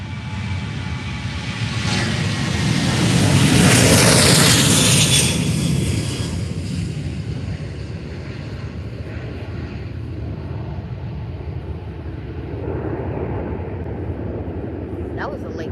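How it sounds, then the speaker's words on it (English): A Norwegian Boeing 737 MAX 8 taking off at Faro Airport, a broad jet roar that swells over a few seconds and then fades into a distant rumble, heard outdoors in the early morning. "So here goes Norwegian 737 MAX dash 800 to Oslo."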